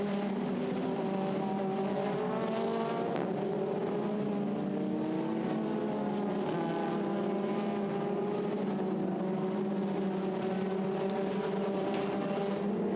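Renault 2.0 single-seater race cars at the Nurburgring circuit roar past in a continuous dense pack, engines droning and shifting pitch as they pass, with no voices heard.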